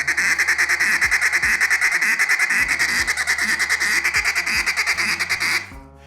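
A duck call blown in a stuttering feed call with drags, imitating many ducks on the water: fast, loud, continuous rhythmic quacking chatter, close and alone, with the hand opening and closing to shape the sound.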